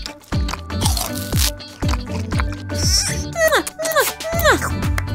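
Biting into crunchy homemade cookies, a series of sharp close crunches in an uneven rhythm, followed by bright squeaky chirps.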